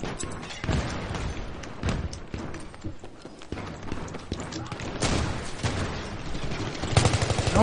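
Shotgun blasts and other gunfire from Battlefield 3 crack repeatedly through busy game noise, several sharp reports spread across the stretch with no one speaking.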